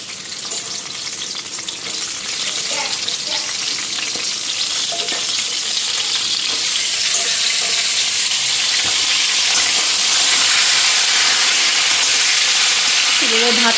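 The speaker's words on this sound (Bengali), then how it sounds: "পটলটা ফ্রাই করে নিই" Pointed gourd (potol) fries in a pan with a broad, hissing sizzle that swells louder and steadier over time, close by, with occasional faint clinks.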